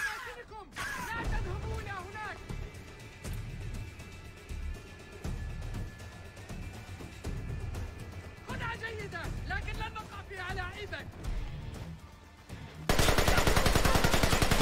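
Bursts of gunfire crackle in Splinter Cell: Conviction, rapid shots rattling under near-constant voices and game sounds, ending in a loud sustained noisy stretch.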